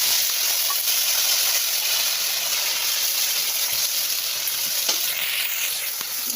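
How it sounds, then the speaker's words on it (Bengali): Dried fish sizzles and crackles in hot oil in a home kitchen, a steady, close frying hiss that runs without a break and has no voices over it. "তেল দিয়ে শুকনো মাছগুলো দিয়ে দিই।"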